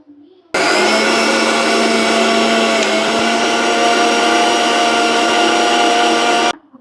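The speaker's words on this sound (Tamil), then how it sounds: "இப்போ நாங்கள் வந்து இந்த சின்ன கிரைண்டர் கப்பில் இந்த வறுத்து வச்சிருக்கிற அவளை போட்டு நல்லா மாவு மாதிரி அரைச்செடுக்கணும்" A small mixer-grinder cup grinds roasted aval (flattened rice) into powder, producing one loud, steady, high-pitched motor whine that starts abruptly and runs for about six seconds before cutting off, close by.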